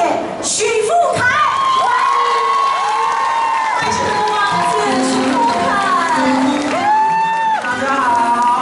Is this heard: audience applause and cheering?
yes